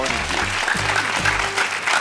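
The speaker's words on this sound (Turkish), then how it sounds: "Alkışlıyoruz rengini." A studio audience at a quiz show claps in a brief burst of applause, mixed with a voice and some low music tones.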